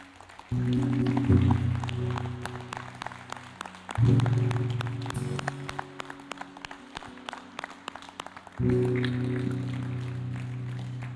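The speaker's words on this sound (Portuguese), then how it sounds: "Dá uma salva de palmas para Jesus." A Portuguese-speaking church congregation at a communion service claps for Jesus, a crackling spread of many hands over sustained keyboard chords that swell in three waves, with no speech.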